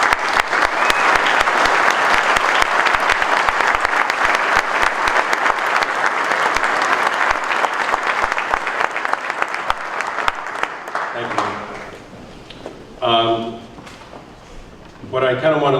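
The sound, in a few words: audience applause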